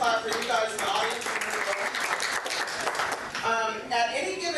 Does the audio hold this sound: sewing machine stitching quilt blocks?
no